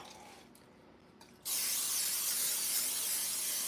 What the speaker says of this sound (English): We're going to take some cooking spray.